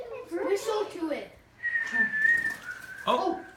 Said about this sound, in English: Whistle to it.